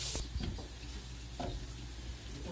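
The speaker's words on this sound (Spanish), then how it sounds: "la carne ya se nos está cociendo" Meat cooking in a pan with onion and pepper for a meat lasagna, giving off a soft, steady sizzle and faint crackle at low volume, with no one speaking.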